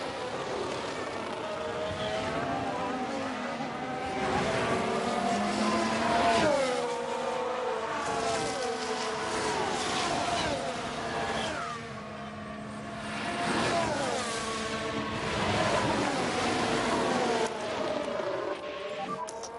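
Formula 1 cars racing in the F1 Manager 23 game, a continuous high engine whine with rising and falling pitch sweeps as cars pass and shift, layered engines overlapping at steady loud level with no talking throughout.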